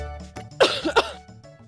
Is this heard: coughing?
yes